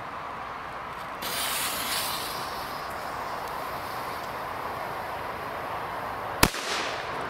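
A Keller Feuerwehr D-Böller firecracker goes off outdoors with a single sharp, loud bang near the end, after a long hissing fuse-like rush and steady background noise.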